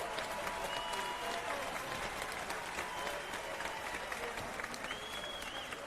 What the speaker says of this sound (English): They got Trevor Bryan on the stretcher now as we hear a round of applause